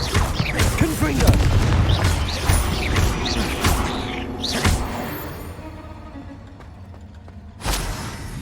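Confringo blasting spells in the Hogwarts Legacy video game, a run of loud booming blasts and crashes with ringing debris, crowded together in the first half, then a quieter stretch and one more burst near the end.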